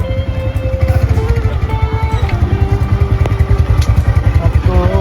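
A motorcycle runs on a sunny day, its engine thrumming loud and close in a steady, rapid pulse throughout, with some rattling.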